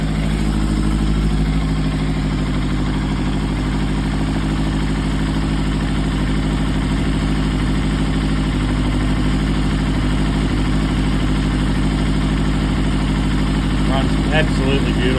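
A Yamaha YZF1000 Thunderace motorcycle engine on its first start after restoration, idling steadily with a deep, loud, continuous rumble for the whole stretch, close by, with only small revving flutters near the end.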